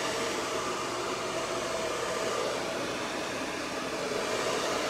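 A hair dryer runs on high heat at a low fan setting, a steady, close, unbroken airy roar that stays level throughout with no talking.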